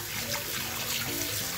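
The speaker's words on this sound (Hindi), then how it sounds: "तो सोनू धो रही है तो मैं आपको दिखा रहा हूँ कि चिकन कैसे धुला जाता है।" Raw chicken washed under a running kitchen tap, with a steady close gush of water splashing into a sink and over the meat, continuous and fairly loud with no voices.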